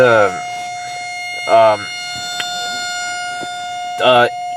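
A steady Whelen outdoor warning siren at Dodge Park drones without pause while short bursts of voices rise over it.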